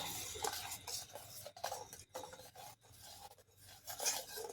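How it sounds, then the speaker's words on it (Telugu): Sugar and oil being stirred together in a bowl for banana cake batter: quiet, repeated scraping and rubbing strokes with small clinks, close and faint, with no voices. "ఇవన్నీ మిక్స్ చేస్తున్నాను అనమాట."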